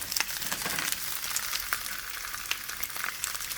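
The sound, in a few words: bok choy stem pieces frying in a pan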